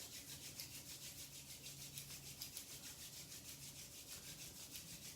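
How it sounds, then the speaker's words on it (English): Two hands rubbed briskly together in a quiet room, a soft, steady swishing friction that keeps a fast, even back-and-forth rhythm throughout and stays faint and close, with no other sound. "rubbing your hands together"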